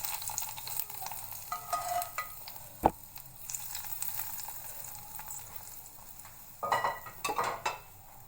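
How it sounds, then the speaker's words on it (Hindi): Hot oil that eggplant was fried in is poured over a yogurt raita, giving a brief sizzling, crackling hiss with a sharp clink of a utensil partway through and a louder burst of sizzle near the end, close up and without talk. "अब जिस ऑयल में फ्राई किया था थोड़ा सा वो ऑयल ऊपर डाल देंगे।"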